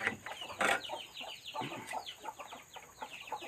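A sick chicken, one of a flock being treated for a nervous-system illness, clucks and calls in short irregular bursts, close and moderately loud, with other fowl sounds mixed in and no talking.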